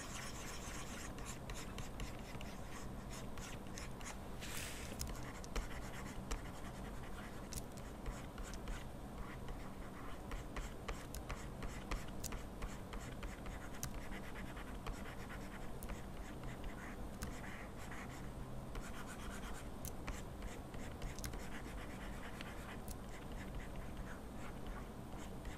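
Pen drawing in-between animation frames, a continuous close scratching and rubbing of the tip across a surface with rapid short strokes, steady throughout with no talk.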